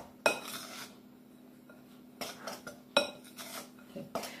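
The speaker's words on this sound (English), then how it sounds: "Then start to stir it, bring it together" Scone mixture is stirred in a bowl with a knife, giving a few distinct clinks and scrapes of metal against the bowl spaced over several seconds, fairly quiet with a faint steady hum beneath.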